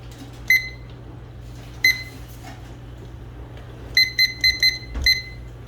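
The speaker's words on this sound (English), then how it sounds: "Okay, the timer's gone off" Kitchen timer going off while keto spaghetti with homemade sauce cooks: sharp electronic beeps, a single one, another, then a fast run of four or five, loud and close against a quiet room hum.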